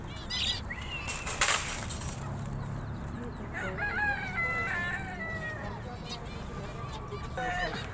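Chickens cluck and call while a rooster crows nearby in a poultry shop in Saudi Arabia, with voices talking in the background.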